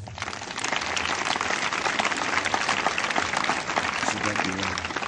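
A church congregation applauding together, a dense sustained wash of clapping that fills the whole stretch, with voices mixed into the crowd.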